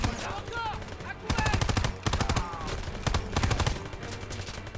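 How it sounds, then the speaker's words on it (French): Rapid machine gun bursts in the World War II shooter game Call of Duty WW2, several loud rattling volleys in quick succession with short gaps, a voice shouting over them. "je leur mets des rafales dans les gencives"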